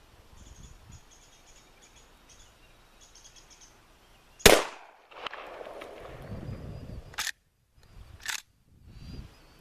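A Model 87 lever action shotgun fires a single loud, sharp blast outdoors over quiet crickets and insects, followed by rustling and a couple of abrupt clicks or clacks from the action.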